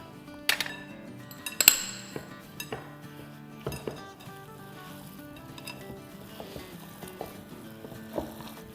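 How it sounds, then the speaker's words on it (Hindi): A chapli kabab mixture is worked by hand with two eggs in a bowl, giving scattered light clinks and taps of utensils against dishware, a few sharper knocks early on, over a faint steady kitchen hum with no talking. "डाल देते हैं 2 अंडे। और अब ये तमाम चीज़ों को अच्छे से मिलाएंगे।"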